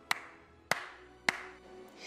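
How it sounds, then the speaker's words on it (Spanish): Three sharp hand claps from someone outside a door, spaced roughly half a second apart, crisp and fairly close with a short ring after each, with no talking. "Mientras tanto, alguien fuera batió las palmas."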